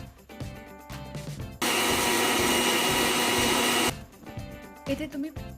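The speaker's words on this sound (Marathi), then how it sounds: "आणि याला छान असं बारीक ग्राइंड करून घेऊ।" A mixer grinder whirs loudly and steadily for about two seconds, grinding peeled coconut with dry fruits, a dense broadband roar that cuts off abruptly, framed by quieter kitchen handling and faint talk before and after.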